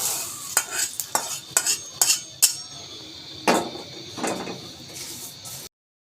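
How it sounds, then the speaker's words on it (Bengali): A utensil stirs and scrapes roasted whole spices in a pan in a series of sharp, close strokes about every half second, over a faint sizzle, before cutting off abruptly. "সব কিছু ভালো করে আবারও টেনে নিচ্ছি"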